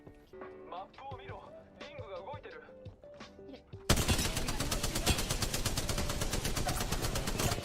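Sustained rapid automatic gunfire in the Apex Legends shooter, loud and rhythmic, erupting suddenly after a quieter stretch of game sounds and voice.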